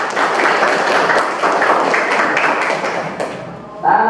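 Classroom applause from a group of students, steady dense clapping at moderate volume that fades out, followed by a voice starting to speak.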